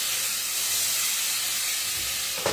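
A sausage sizzles in a frying pan during breakfast cooking, a steady close hiss throughout with a brief louder spit near the end.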